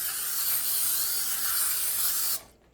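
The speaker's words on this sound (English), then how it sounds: "Spray the pan." Cooking spray misted onto a pan while roasting butternut squash, one continuous hissing burst of about two and a half seconds that cuts off sharply, close and fairly loud.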